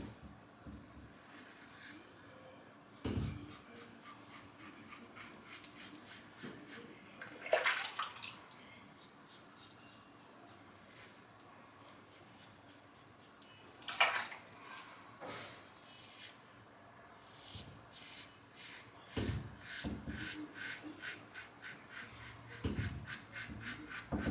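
A shaving brush is shaken and rinsed in a basin of water between lathering passes during a Karve Overlander comparison, giving a few sharp splashy bursts over a steady low wash of sloshing.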